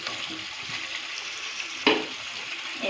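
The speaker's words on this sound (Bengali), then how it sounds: "এবার দিয়ে আবারও ভালো করে কষাবো যতক্ষণ তো আমার পুরো মটনটা তেল ছেড়ে না যায়" Mutton and potato pieces are stir-fried in oil in a kadai over a medium flame, making a steady bright sizzle close by, with one sharp scrape of the spatula near the end.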